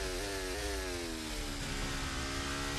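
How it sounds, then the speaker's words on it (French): A Ferrari engine in a racing video game holds a loud, steady, buzzing drone whose pitch rises slightly at first and then settles, with no break. "Je suis pas fan du son du moteur Ferrari."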